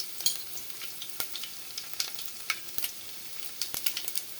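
Mustard, fenugreek and cumin seeds sizzle and crackle in hot oil, with steady frying hiss and sharp popping ticks scattered throughout, close and fairly quiet, no voices.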